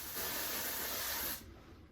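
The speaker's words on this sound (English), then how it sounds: "The way I'm going to do that is just by spraying" One long, steady hiss of a spray bottle spraying along a horse's forehead for tan marking, close and loud, lasting over a second before cutting off to quiet room noise.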